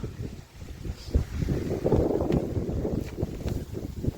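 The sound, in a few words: wind blowing on microphone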